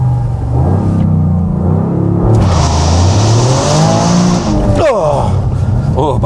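Toyota GR Yaris with a manual gearbox pulling hard, its engine rumbling loud and close with a rising rev sweep, a brief gear-change dip, then climbing again.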